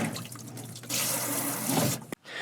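A camper van sink faucet turns on and runs with strong pressure, a steady loud hiss of water splashing into the basin for about a second before cutting off abruptly.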